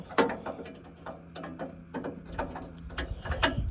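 Ratchet working loose a stubborn bolt on a car: a quiet run of uneven clicks and creaks up close, with louder pops and strain toward the end.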